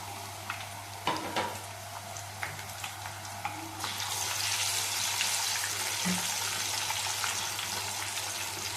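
Thin maida sawali snacks frying in oil over a low flame make a steady, close sizzle with soft bubbling. It grows denser and louder about halfway through, and a few light clinks of a utensil rise above it.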